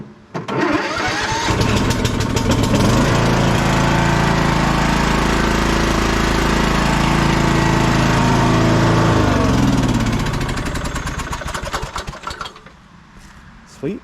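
A Toro LX427 lawn tractor engine cranks, catches and roars to a loud, steady run for about ten seconds before cutting back and sputtering down, the tone dipping slightly midway.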